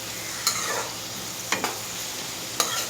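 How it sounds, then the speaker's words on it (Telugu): Onions stirred and fried in a pan for an egg fry, a low steady sizzle with three sharp scraping strokes of the spatula spaced across the clip. "ఆనియన్స్ వేసుకొని ఇలా బాగా తిప్పుకుంటూ ఫ్రై చేసుకోవాలి."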